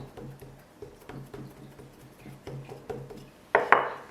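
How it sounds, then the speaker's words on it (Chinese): A wooden rolling pin presses and rolls thin spring pancake dough on a board, giving soft irregular taps and light knocks, followed by a sharper clatter near the end. "用擀面杖压住中间的部分，上推下拉，然后给它压一压，上下压，左右也压一压"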